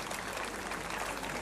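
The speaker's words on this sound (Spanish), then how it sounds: "Regáleme el aplauso, señoras y señores" Crowd applause at a rodeo in Ejutla de Crespo, Oaxaca, a dense, steady wash of clapping that fills the whole moment at a moderate, fairly distant level with no voices on top.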